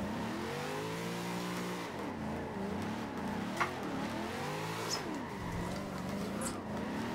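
A car in the video game Forza Horizon 2 drifting in a dock tandem, engine revving and swooping up and down in pitch as it slides through turns, with tire squeal, steady and fairly loud throughout.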